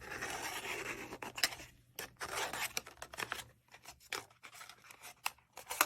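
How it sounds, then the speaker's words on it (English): Paper flaps of a gift card pillow box being folded in at score marks, giving a run of soft crinkling, scraping rustles and crisp snaps, close and fairly quiet, with no voices. "So I'm just folding it in slightly at those score marks."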